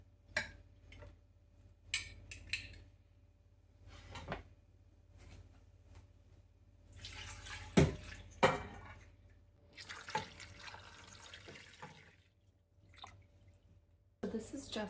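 Tap water runs into a pot for chicken bone broth, with intermittent splashing bursts and clattering close up between quieter pauses.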